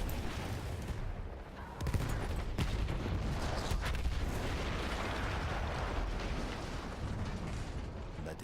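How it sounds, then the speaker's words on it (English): A big explosion in the Battlefield 1 single-player campaign, heavy booming rumble with a sharp burst near the start, followed by sustained roaring debris and distant blasts. "That explosion was one of the sweetest sights of the war for me."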